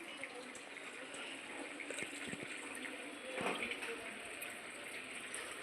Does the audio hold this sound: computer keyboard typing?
no